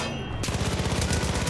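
Rapid automatic gunfire in the Far Cry 5 shooter, a dense continuous burst of close, loud shots rattling without pause for the whole moment.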